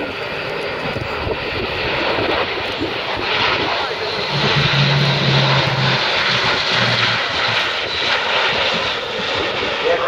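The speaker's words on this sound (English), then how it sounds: "The aircraft being turned now into what will be a very tight 360-degree orbit in front of us." RAF transport aircraft flying a tight 360-degree orbit at an airshow, a loud continuous engine roar with a steady propeller drone that swells slightly midway, heard outdoors from the crowd.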